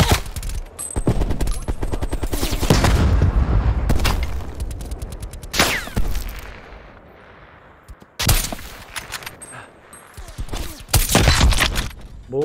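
Loud gunfire in a Call of Duty Black Ops Cold War multiplayer match, with sharp rifle shots and rapid bursts that ring out and fade, plus quieter gaps between volleys.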